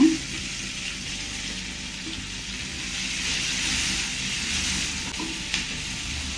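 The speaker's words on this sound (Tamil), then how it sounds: "லைட்டாக ஒரு ரெண்டு நிமிஷம் போல் இதில் ரோஸ்ட் பண்ணி எடுத்துக்கிறேன்" Onion salad roasting with masala in a hot pan for a paneer roll filling, a steady close sizzle with occasional stirring scrapes, even and continuous throughout.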